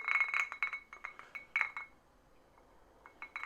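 Whiskey, a rye, swirled in a large drinking glass, giving a run of light glassy clinks and rattles in close, quiet surroundings, then a short pause before a few more faint taps.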